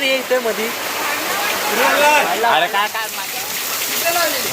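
Steady rushing rain and wind noise from a heavy monsoon downpour and storm that flooded a house, with people talking and calling out over the downpour throughout.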